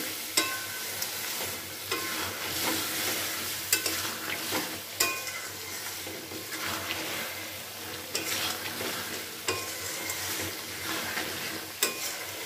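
Young drumsticks, potatoes and vegetables are stirred in a pan of sugar-seasoned curry, with a soft continuous sizzle and a regular series of sharp spoon scrapes and clinks against the pan, heard up close with no talking.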